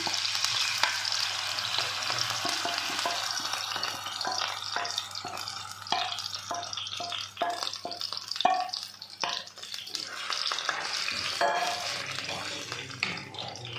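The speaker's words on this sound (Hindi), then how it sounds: "अब ये जो 1 कप सूजी का मैंने 4 घंटे भिगोई थी, इसमें डाल देना घी में।" Soaked semolina frying in ghee in a pan on low heat, a steady broad sizzle with repeated scraping and stirring clicks of a spoon throughout, close and fairly loud, no talk.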